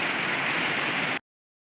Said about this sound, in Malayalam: പുറത്ത് ഭയങ്കര മഴ